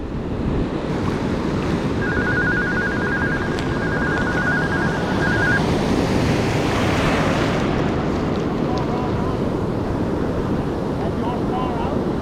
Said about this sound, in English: Waves are crashing nice actually, by the way.